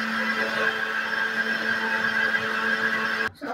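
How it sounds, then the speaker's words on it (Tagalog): A blender mixing crepe batter whirs loudly and steadily with a strong motor hum for about three seconds, then cuts off abruptly. "Tapos, okay na yan. I-blender na natin."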